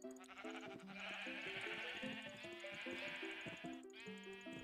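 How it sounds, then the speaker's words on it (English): Sheep bleat repeatedly in Minecraft on a Hypixel server while being sheared, a steady overlapping chorus of wavering cries with no talk. "On my level of shearing sheep."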